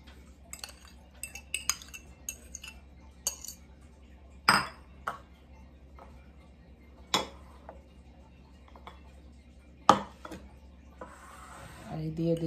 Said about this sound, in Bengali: এখন আমি সবগুলো উপকরণ একসাথে করব